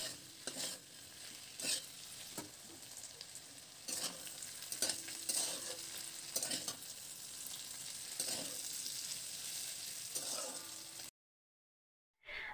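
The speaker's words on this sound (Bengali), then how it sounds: "সবজিটা আমি আরো একটু কিছুক্ষণ ভেজে নেব।" Vegetables fry with cumin-coriander powder in a pan while being stirred, giving a steady close sizzle broken by repeated scraping strokes. No one speaks, and the sound drops out abruptly near the end.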